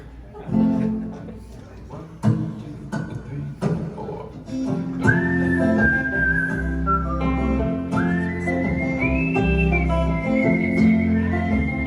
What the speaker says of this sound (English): Only whistling. Solamente whistling.